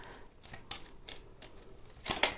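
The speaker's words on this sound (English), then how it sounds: "I'll shuffle this again briefly" Deck of oracle cards being shuffled by hand, a few quiet separate riffles and flicks spaced irregularly, close and soft with no talking.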